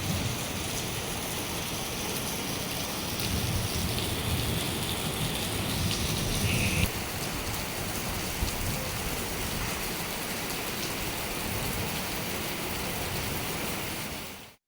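Heavy rain falling around the Yadagirigutta temple grounds, a loud, unbroken roar of dense drops that stays level throughout and then fades out at the very end.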